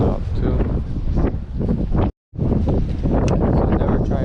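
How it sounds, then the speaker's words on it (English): Strong gusting wind roars across the microphone at Belmont Pier in Long Beach, California, during a fishing trip in a sand storm. The buffeting is loud and continuous, breaking off briefly midway. "since it's so windy"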